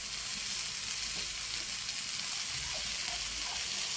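Fried rice for Thai-style fried rice sizzling hard in a hot pan just after fish sauce goes in, a dense, continuous, close hiss with no pauses.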